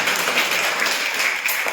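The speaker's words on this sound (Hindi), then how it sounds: "ताली बजाओ इसके लिए, बहुत अच्छे।" Children clap their hands together in a classroom, a steady broadband patter of applause lasting under two seconds with no voices over it.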